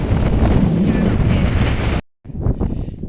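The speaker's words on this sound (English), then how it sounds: "It's blowing an absolute gale up here. It's still very windy." Loud, roaring wind buffets the microphone continuously on the Yr Esgair mountain route in Wales, cutting out briefly before gusting back in just as strong.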